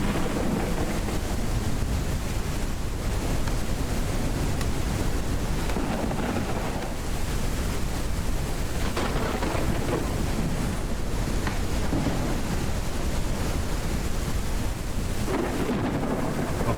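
Thunderstorm in the survival game Mist Survival: a constant loud roar of wind and rain with deep rumbling thunder swelling underneath, steady and unbroken throughout.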